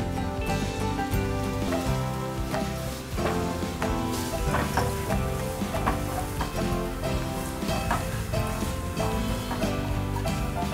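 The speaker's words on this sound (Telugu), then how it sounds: "ఇప్పుడు ఈ నెయ్యిలో ఫ్రై చేసుకోవాలి క్యారెట్ని అంతా." Grated carrot frying in ghee, a dense steady sizzle with scattered crackles and faint stirring clicks running throughout, with no talk.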